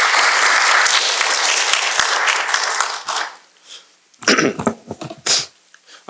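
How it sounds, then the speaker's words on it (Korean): Seminar audience at a Korean university lecture on human-AI collaboration applauds loudly and densely to welcome the speaker, the clapping fading out after about three seconds, followed by a few scattered sounds like coughs and shuffling. "박수로 맞이해 주시기 바랍니다"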